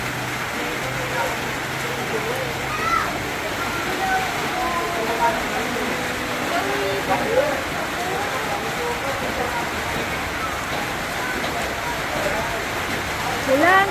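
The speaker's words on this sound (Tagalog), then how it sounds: "Ulan, ulan, ulan." Steady rain pattering outdoors at a birthday party in Villasis, Pangasinan, a continuous wash of drops that runs the whole time beneath scattered voices talking nearby.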